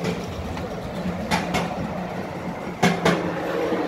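A miniature garden railway train rolls along at a garden railway meet in a railway history park, its wheels clacking over rail joints in spaced pairs above a steady outdoor rumble.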